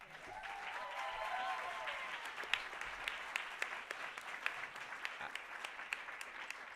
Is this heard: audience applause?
yes